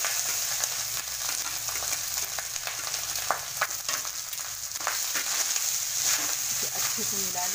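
Rice being stirred into a hot frying pan for jeera rice gives a steady, close sizzle, with scraping and stirring clicks scattered throughout and no talk.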